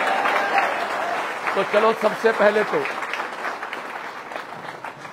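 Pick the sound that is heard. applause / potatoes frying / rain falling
applause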